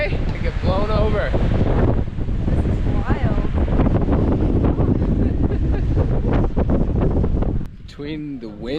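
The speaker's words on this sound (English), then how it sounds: "Just a little windy today. I get blown over." Strong wind buffets the microphone at a Grand Canyon overlook, a loud, steady roaring rush that carries through the whole clip while someone talks over it.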